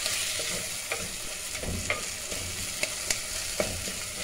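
Minced meat frying with tomato in hot oil, a dense steady sizzle close up with occasional sharp stirring scrapes in the pan, no voices.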